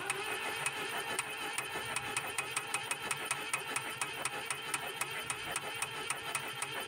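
Volvo B20 engine from a Volvo 140 cranking over on the starter, giving a steady, rapid mechanical chatter with regular ticking pulses throughout, heard up close with no talking.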